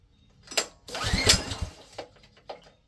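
A 420cc small engine, swapped into an 1987 Oldsmobile Cutlass Cruiser wagon, is pull-started with the choke on: a few sharp rope pulls and a brief sputtering catch that fails to keep running, close and fairly loud.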